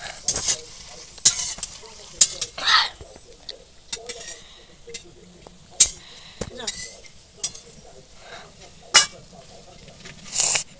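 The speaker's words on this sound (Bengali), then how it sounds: "ওগুলো ভাজা হচ্ছে এখনো একদম যখন ভাজা হয়ে যাবে সব একদম তেলের উপরে পুরো ভেসে উঠবে ততক্ষণ ভাজতে হবে" Potato chips frying in hot oil, a soft continuous sizzle broken by sharp clinks and scrapes of a utensil stirring in the pan, close and fairly quiet.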